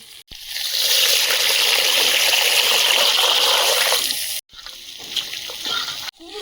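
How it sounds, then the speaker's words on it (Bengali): Dal lentils being rinsed under running water for khichdi, a loud continuous gush and splash lasting a few seconds, then a quieter trickle and a few wet stirring sounds. "ডালটা ভালোভাবে ধুয়ে নেব"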